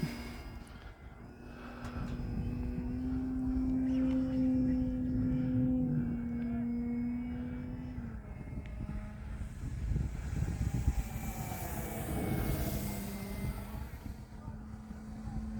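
A Flex Innovations Mamba 60E electric RC airplane flies overhead, its motor making a whining tone that shifts up and down in pitch as it passes at a distance under wind noise.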